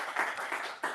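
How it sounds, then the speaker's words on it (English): Brief clapping from a small audience at a tech meetup, a few hands applauding a speaker for under a second, fairly faint and thin. "applause to Tom."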